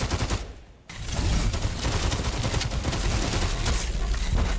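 Dense, loud gunfire from a video game fills the clip as sustained overlapping bursts, with a brief dip near the start before the shooting resumes continuously.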